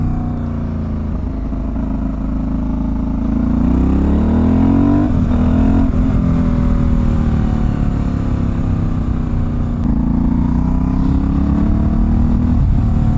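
An Aprilia Dorsoduro 750 V-twin supermoto rides a bumpy road, its engine a loud, steady throb with pitch rising and falling through gear changes, close up and accompanied by wind rush.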